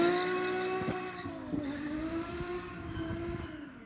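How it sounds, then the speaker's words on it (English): Ferrari 550 V12 with an unmuffled center exhaust section, a smooth high-pitched engine howl that holds steady then eases, heard alone and moderately loud. "It sounds like a V12 Ferrari should sound."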